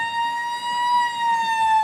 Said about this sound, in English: Got an old firefighter siren on that tractor.